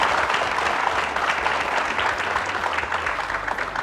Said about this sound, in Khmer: សូមតែដៃស្វាគមន៍ដល់ក្រុមជនរបស់យើង